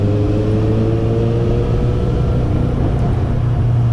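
A Kawasaki Z800 motorcycle engine revs and pulls in a steady, loud, continuous drone with a low rumbling hum, heard alone without voices.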